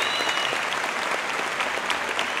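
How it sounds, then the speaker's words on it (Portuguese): A crowd at a professional Muay Thai event gives loud, continuous applause for two fighters opening a GP, the dense clapping holding at an even level from start to finish. "quero pedir uma salva de palmas para os dois atletas que iniciam aqui um belíssimo GP"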